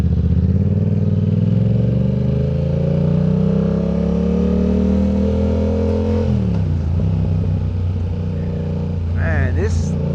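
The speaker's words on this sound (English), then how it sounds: "this exhaust is popping and everything, boy. It is loud." A Yamaha R7 motorcycle with a loud aftermarket exhaust accelerates steadily, engine pitch climbing under wind noise, then shifts and drops back with some crackling near the end, heard close while riding.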